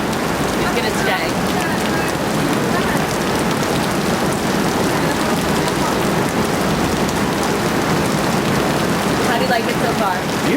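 Steady rain falls outdoors in Miami Beach, a dense continuous hiss of drops on surfaces that runs unbroken throughout, with a faint hint of voices beneath.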